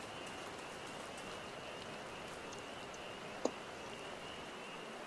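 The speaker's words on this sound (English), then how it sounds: "It's raining out too." Steady rain falling in the Final Fantasy XIV game world, a dense even hiss throughout with one brief tap partway through, no voices.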